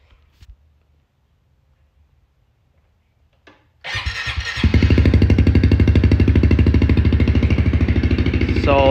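A Honda CRF 110 dirt bike fitted with a new exhaust is kicked over after a few quiet clicks, catches and settles into a loud, close, rapidly pulsing idle with slight revving.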